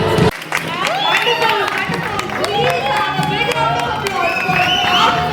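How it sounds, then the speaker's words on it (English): Audience at a charity fashion and awards show clapping and cheering, with shouts and excited voices mixed into the crowd noise and people talking over it. "Big round of applause,"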